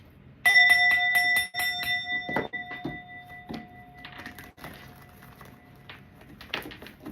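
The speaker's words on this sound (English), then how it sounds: "I am going to be hitting the bell" A bell is struck once, ringing out clearly with a long sustained tone that slowly fades, followed by softer tapping and rustling sounds.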